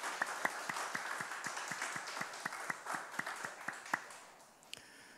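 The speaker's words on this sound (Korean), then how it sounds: "우리의 간구를 이루실 하나님께 영광의 박수 올려드립시다" A church congregation at a Sunday service claps together in a steady, even rhythm of distinct hand claps that slows and fades near the end, set in a reverberant hall.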